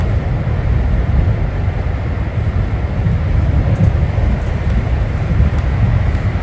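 LIRR M3 Brooklyn Shuttle train running at 70 mph, heard from onboard: a constant, loud, dense roar and rumble of wheels and motors, even and unbroken throughout.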